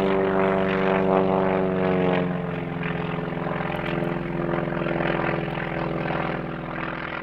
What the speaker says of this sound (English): I see the airplane. I could hear that sound.